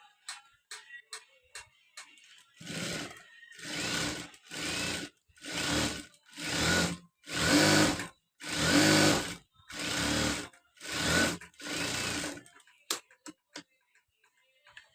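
A sewing machine stitches the armhole of a uniform coat in about eight loud whirring bursts separated by short pauses, with light ticking clicks before and after the runs and no speech.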